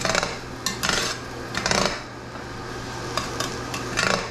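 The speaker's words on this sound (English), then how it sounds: "ooh, let's stir this. It's starting to solidify." A spoon scrapes and stirs through thickening nacho cheese in a pot, giving intermittent bursts of scraping strokes over a steady low kitchen hum, with no talking.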